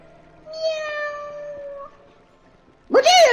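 A voice imitating a cat's meow in a children's fairy-tale story, one long drawn-out sustained call, loud and close, followed by a sharp rising-falling second cry.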